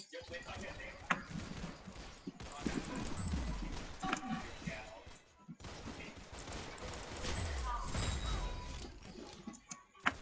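Gunfire in the Roblox game Arsenal, a busy mix of rapid shots and bursts that runs almost the whole time with a brief lull in the middle, while a voice talks over it.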